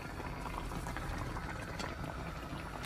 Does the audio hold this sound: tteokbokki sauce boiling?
yes